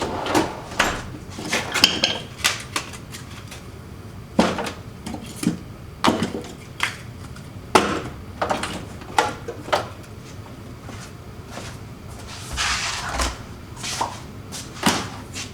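A workshop abrasives drawer holding paint markers, cut-off wheels and flap discs slides open and shut repeatedly, with sharp wooden thumps and rattling contents spaced irregularly across the stretch, close and fairly loud.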